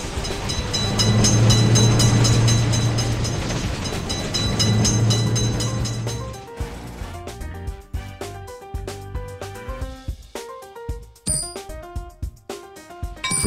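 A train in an Indian railway crossing video game passes with a heavy rumble that gives way to clattering wheel clicks, clanks and bell-like dings as the carriages roll by, with no talk.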